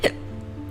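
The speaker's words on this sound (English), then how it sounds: "Oh no, I have hiccups." A single sharp hiccup from a person, close and loud at the very start, then quiet room hum with no speech.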